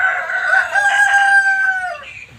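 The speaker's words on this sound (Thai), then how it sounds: "เสียงไก่อะ" A rooster crows once nearby, a loud, drawn-out cock-a-doodle-doo that falls in pitch at the end, with no talking.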